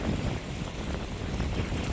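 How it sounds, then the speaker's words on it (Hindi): Strong wind roars across a fast-flowing river with waves surging, a dense continuous rush of water and blustery microphone-buffeting wind, loud and close throughout with no voices. "हवा भी चल रही है, हवा के वजह से भी पानी में जो है लहरें उफान पे हैं"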